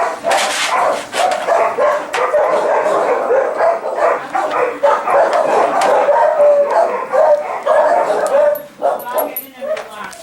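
Dogs in a rescue shelter adoption room bark, yip and whimper almost continuously, close and loud, with a person talking over the din.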